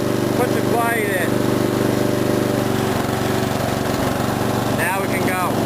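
Ariens rear-engine riding lawnmower roars at full throttle, loud and steady from start to finish, with bursts of higher-pitched whine at the start and near the end.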